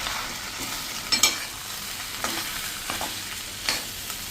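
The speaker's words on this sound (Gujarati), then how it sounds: "હવે આ બધું જ આપણે મિક્સ કરી લેશું." Samosa filling stirred and frying in a pan: a soft steady sizzle with a few sharp scrapes and clinks of the spoon against the pan, close and alone without talk.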